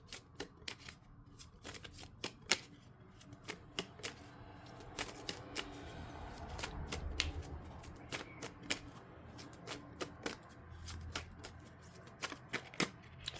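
Tarot cards shuffled and drawn by hand during a Capricorn Moon reading, a quick, rapid run of crisp riffling snaps and soft card slaps, close and fairly quiet, with no talking.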